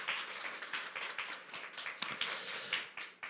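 Church congregation giving welcoming applause, a brief burst of scattered clapping from a small group, moderately loud with uneven rhythm.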